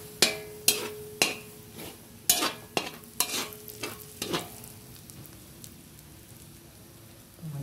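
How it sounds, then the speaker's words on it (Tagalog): Garlic frying and browning in a pan, with a steady sizzle under about a dozen sharp scraping stir strokes that fade out, then a low rumble near the end. "Nag-brown na po yung ating bawang."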